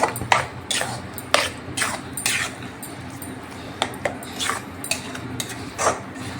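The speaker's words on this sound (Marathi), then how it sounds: "जोपर्यंत वेळ मेल्ट होत नाही तोपर्यंत हे छान मी असं परतून घेते आणि हलवत राहायचं" A spatula scrapes and knocks against a pan while modak filling is stirred and sautéed, sharp irregular clinks and scrapes spaced about a second apart over a low kitchen hum.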